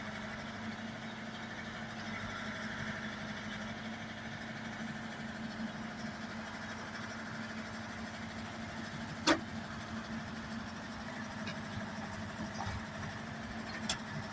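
A BK-215 excavator mounted on a Dongfeng DF-404G2 cab tractor works, digging and dumping soil. Its engine holds a steady, close drone throughout, broken by a sharp metallic clank near the middle and a lighter one near the end.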